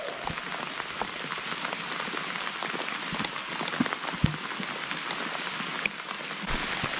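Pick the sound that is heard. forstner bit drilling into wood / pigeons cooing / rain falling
rain falling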